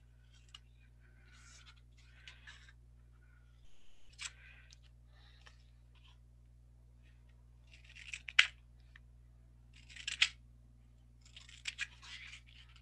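Scissors snipping paper along folds in a hands-on craft workshop, a few sparse crisp cuts at first, then louder clusters of snips toward the end, close and fairly quiet.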